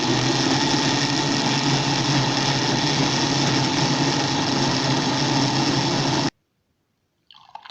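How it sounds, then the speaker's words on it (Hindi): An electric blender runs hard on dates and milk for a dates milkshake, a loud steady whirring drone for about six seconds before cutting off abruptly, followed by a brief faint clatter. "अब इसको ब्लेंड कर लेंगे"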